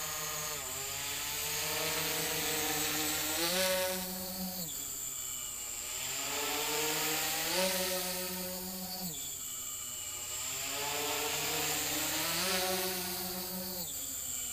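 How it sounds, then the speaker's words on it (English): Multirotor drone motors whine loudly in rising and falling waves, their pitch swelling and dropping roughly every four seconds through a descending full-throttle run, with no talking. "And a descending full throttle input."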